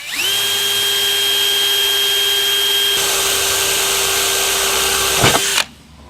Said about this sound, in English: we're going to drill the little holes here for the rivets